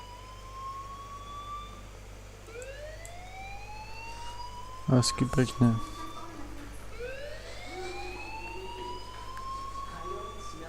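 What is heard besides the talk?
fire alarm in the video game Life is Strange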